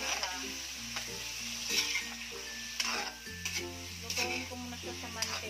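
Pork frying in a little oil in a pan, a steady close sizzle with occasional stirring scrapes, beneath background music.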